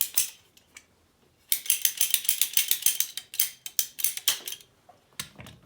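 A plastic radiator overflow jar for a Land Rover Series 2A engine swap being cut with a hand tool: a rapid run of sharp, close snipping and cracking clicks in irregular bursts after a quiet start, trailing off into a few scattered crunches.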